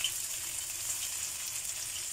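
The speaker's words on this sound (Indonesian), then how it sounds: "Kita goreng sampai matang ya" Tempe frying in a shallow layer of hot cooking oil gives off a steady, close, bright sizzle with faint crackles and no voices.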